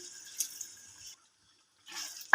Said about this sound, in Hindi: ग्रेवी के लिए इसमें 1/2 कप पानी डाल देते हैं।